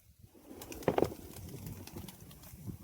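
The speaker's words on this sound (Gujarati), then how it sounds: "સ્વાહા કબૂતરા ઉડી જા" A pigeon coos once, a short throaty burst in an outdoor setting with steady low background noise and faint rustling.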